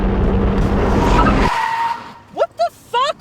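Car tires skid hard to a sudden stop, a loud broadband screech that cuts off abruptly, followed by short bursts of raised voices.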